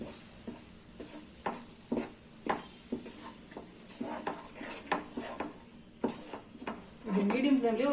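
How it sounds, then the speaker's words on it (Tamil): A spoon scrapes and stirs ground moong dal in a pan for moong dal halwa, giving a steady series of short, close scraping strokes about twice a second, with a soft sizzle rising at the end. "இப்போ நம்ம அரைச்ச அந்த பாசி பருப்பு போட்டுக்கலாம். இப்போ இதை போட்டு மிக்ஸ் பண்ணிக்கலாம்."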